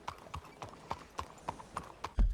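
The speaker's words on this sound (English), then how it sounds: "Cavalo." Horse hooves in Red Dead Redemption 2 clip-clopping at an even walking pace, about eight crisp clear steps, ending with a heavier low thud.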